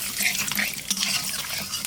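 Black cumin and bay leaf sizzling in hot oil, a bright crackling hiss with small pops and a clink of a utensil against the pan, close and continuous without talk.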